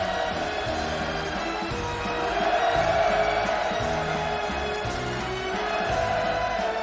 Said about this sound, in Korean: 공연이 끝나자 우렁찬 만세 환호가 터져 올랐습니다